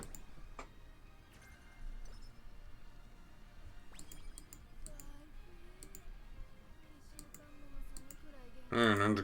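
Mouse clicks in a racing-horse training game menu, sparse crisp clicks scattered across steady game music and background sound, ending in a louder burst of game audio.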